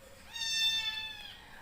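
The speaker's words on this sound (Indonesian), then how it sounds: "Maaf ya teman-teman, ada kucing yang baru di rescue" A single drawn-out meow from a newly rescued cat, clear and fairly close in a quiet room.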